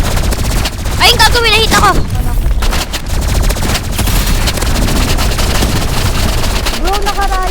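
Gunfire in a Roblox Rivals four-versus-four match, with loud bursts of rapid shots and in-game effects alongside excited players talking over the action.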